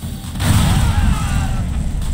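Booming explosions ring out in a factory level of the video game God's Trigger, a loud sustained roar of blasts and rumble that cuts off abruptly.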